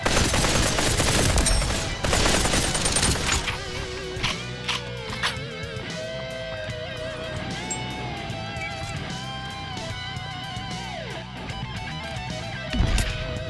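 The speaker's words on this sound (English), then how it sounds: "someone behind us shooting, maybe?" Gunfire in the VR shooter Population One, a dense crackling burst of shots up front that gives way to sparser, fainter distant shots under a steady tonal game soundscape.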